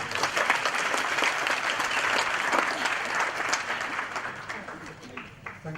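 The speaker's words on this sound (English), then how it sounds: "Can we please give Father a hand of applause?" A crowd claps together at a college graduation ceremony after a prayer, steady, fairly loud applause from a large audience that carries on evenly and eases off slightly toward the end.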